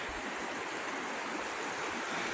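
The Bear River in January, running at about 600 cfs, rushes steadily over cobbles in a continuous broadband wash, close and unbroken with no voices.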